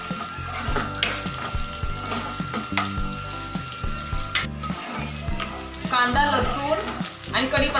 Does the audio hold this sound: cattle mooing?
no